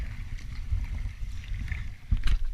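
A kayak paddled across open water in Greenland on a long expedition, with soft rhythmic paddle strokes and water wash under steady wind noise, a stronger splash near the end.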